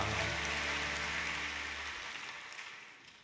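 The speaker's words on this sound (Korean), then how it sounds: "서로에게 축복의 박수를 드립니다" Church congregation clapping together during a Sunday worship service, a steady broad wash of applause that slowly fades over a few seconds, with a low sustained organ-like tone underneath in the first half.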